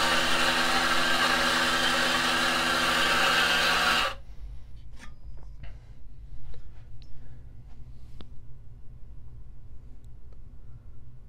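A Turin DF64E coffee grinder grinds espresso beans on its coarsest setting with a loud, steady motor whir for about four seconds, then cuts off abruptly, leaving faint taps and rustles.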